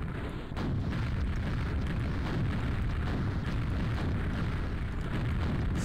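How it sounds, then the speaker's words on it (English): Gunfire and explosions fill a Quake boss fight against the Cyberdemon: a dense, continuous roar of rumbling blasts and booming impacts, loud and unbroken, with no speech over it. "So now we just keep running around in circles and I'm shooting the Cyberdemon."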